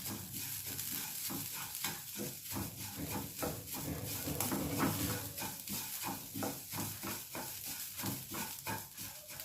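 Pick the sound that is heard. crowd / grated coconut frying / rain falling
grated coconut frying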